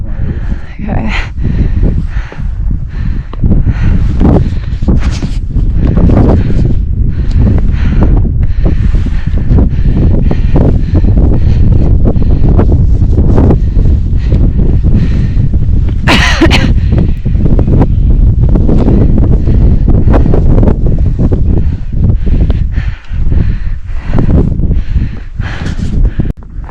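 Strong wind roaring over a high mountain ridge on Little Bear Peak, a continuous loud buffeting that fills the whole stretch, with voices talking intermittently underneath.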